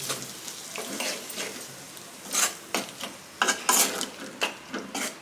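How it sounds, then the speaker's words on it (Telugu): Amaranth leaf chutney being stirred and mixed, giving soft scraping and rubbing strokes in an irregular rhythm, close by and moderately quiet with no talking. "పచ్చడి మొత్తం ఇలా కలుపుకున్నాం"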